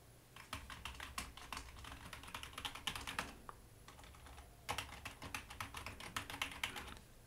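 Quick, steady keystrokes clatter on a Bluetooth keyboard connected to an iPhone at close range, two runs of typing separated by a brief pause.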